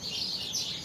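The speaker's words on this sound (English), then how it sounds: "It's my favorite thing about the rain, listening to the birds." Birds chirp busily during rainfall, with a steady high twittering over the soft hiss of rain throughout a brief moment, fairly loud and with no voices.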